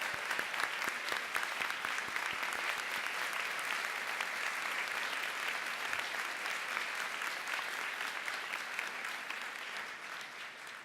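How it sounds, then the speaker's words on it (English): Gala audience gives a long, sustained round of applause, dense and even across many hands, somewhat distant and tapering gently toward the end. "They really do deserve a round of applause."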